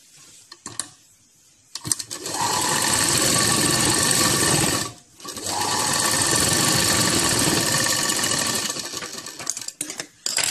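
A sewing machine stitches a salwar seam in two long, loud, continuous whirring runs separated by a short pause, with a few quiet clicks of handling at the start and end.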